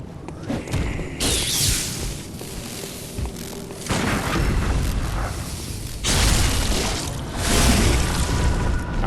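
Tonitrus weapon attacks in Bloodborne hit with heavy electrified booms, several loud bursts arriving in surges with crackling energy and rumbling between them, no voices.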